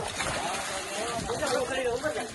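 Water sloshing and splashing in a village well as a group of friends swim, with choppy irregular splashes close by and people talking over them.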